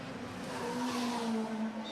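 Touring race cars on the Macau street circuit rush past with loud engine drones and brief tire squeal, a steady racing roar over roughly two seconds.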